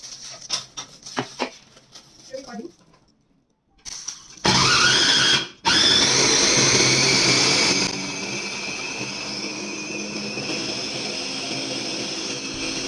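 Electric food processor grinding toast bread into breadcrumbs: a few knocks and rattles, then a loud steady whirring roar after a brief pause, easing to a lower continuous grind.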